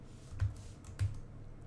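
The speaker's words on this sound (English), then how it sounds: "I'm going to keep going, and I'm going to type" Code being typed on a computer keyboard: a short run of soft, close key taps with two slightly firmer presses, quiet and without talk.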